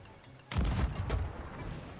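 A single heavy cannon boom in the Sea of Thieves pirate ship game, loud and close, followed by a rumbling tail and a second fainter blast, with no speech.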